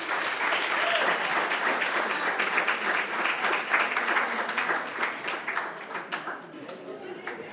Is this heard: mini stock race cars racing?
no